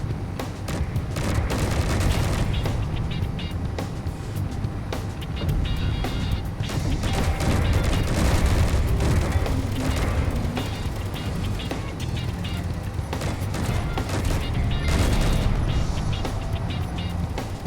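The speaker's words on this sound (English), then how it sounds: "Suppose I can switch the Gatling turrets to weapons as well." Gatling turrets fire continuously in the space combat game Space Engineers, a dense, loud, unbroken rattle of rapid gunfire layered with booming impacts throughout.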